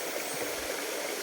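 A river flows in a steady, even rush of water that fills the short moment closely, with no voices over it.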